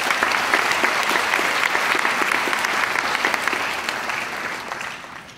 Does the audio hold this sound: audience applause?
yes